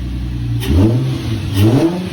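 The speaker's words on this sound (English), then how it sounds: "Go ahead and give her a couple little revs." An Infiniti G35 engine, just repaired with its idler pulley removed, revs twice in quick succession, each burst rising and falling in pitch, loud and close.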